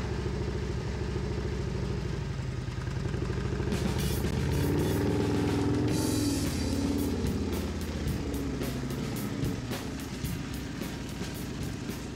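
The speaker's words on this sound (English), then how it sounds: "It's got this throaty engine that just goes." An OCC custom motorcycle with a throaty engine rumbles steadily as it is ridden, a loud continuous low growl that swells and revs up midway, with some clatter and no talking.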